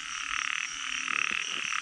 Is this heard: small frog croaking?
yes